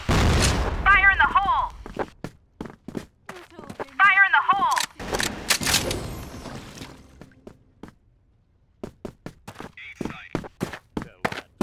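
Rapid gunfire bursts and booming grenade blasts from the shooter video game CrossFire, loud and repeated, with shouted in-game voice callouts over the action.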